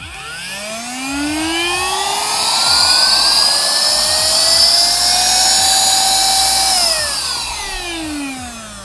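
Baseus 5000pa cordless vacuum cleaner used as a blower, its motor spinning up to a loud high whine, holding steady for several seconds, then winding back down, close and alone.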